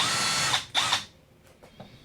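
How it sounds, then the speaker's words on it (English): A power drill whirs loudly in two short bursts, then falls quiet apart from a few faint mechanical taps. "You're going to drill your pilot holes"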